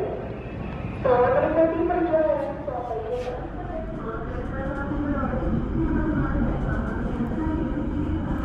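KA Sawunggalih economy train departing Bekasi, its steady rolling rumble filling the clip with a brief louder squeal early on, while a person talks over it.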